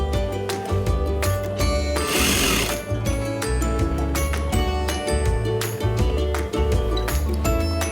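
Sewing machine stitching a sleeve seam on a sleepwear garment, running in a loud, steady mechanical whir with rhythmic needle pulses, briefly pausing and restarting, heard close and alone.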